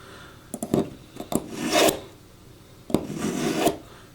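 A knife blade being sharpened on a sharpening stone: several close rasping strokes come in short bursts, then longer drawn-out scrapes with quiet gaps between them.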